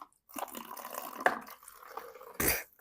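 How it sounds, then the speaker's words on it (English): Vinegar poured into a plastic container, a soft splashing liquid trickle running steadily for about two seconds, then a brief louder gush near the end, close by and with no talking. "So first we're going to pour the vinegar inside"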